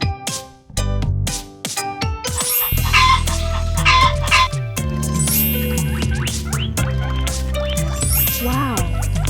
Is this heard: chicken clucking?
yes